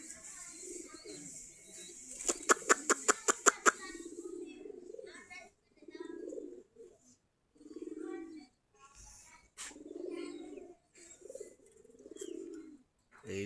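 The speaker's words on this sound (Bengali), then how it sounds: "আমাদের কবুতরগুলা খোপের কাছে বসে বসে বাচ্চাদের খাবার খাওয়াইতেছে।" Domestic pigeons at their loft while feeding their chicks: soft, low cooing rises and falls in short phrases, close by, along with a quick run of sharp clicks and a person talking between the coos.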